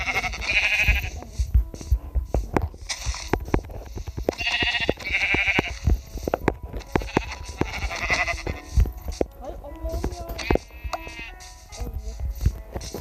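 Repeated bleats of sheep in Minecraft, loud and close, come in several bursts over a steady low rumble and scattered clicks, with no one speaking.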